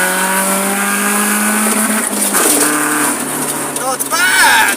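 Widebody BMW E36 with a new muffler replacing its straight pipes, the engine running loud and steady with rising and falling revs, plus a brief tire-squeal-like sweep near the end, under continuous talk.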